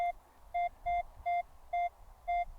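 Metal detector giving a repeated coin signal while treasure hunting in dry soil in Ukraine: six steady mid-pitched electronic beeps at an even rhythm, clear and close, with low rumble beneath and no talking.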